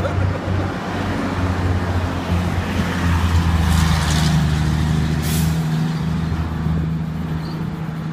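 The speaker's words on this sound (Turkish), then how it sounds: "kamyon geliyor" A heavy truck rumbles past on a roadway, a loud, steady low drone with a brief hiss of air brakes partway through, with no speech over it.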